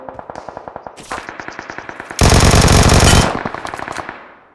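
Gunfire in the mobile shooter BGMI on the Livik map: a rhythmic string of loud, evenly spaced shots that builds into a dense automatic burst, then fades away, with no talk over it.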